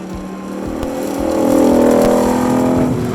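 A Ford Mustang GTD in sport mode drives with a steady, throaty engine drone that swells louder midway and holds a rich harmonic tone, with no talk over it.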